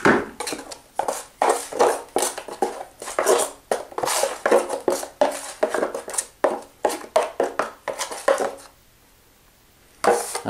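Drywall joint compound worked around in a mud pan with a knife, giving a busy run of close wet scrapes and metallic clacks in quick, irregular strokes that stop briefly near the end, with no voices.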